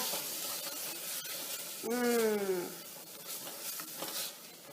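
Watery tomatoes sizzle and hiss steadily in a hot pan, with a short rising squeak cutting through briefly partway through.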